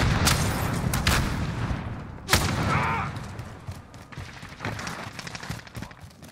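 In a modern military shooter video game, dense gunfire crackles throughout, and a sharp grenade blast stands out midway before the shooting continues at a slightly lower level.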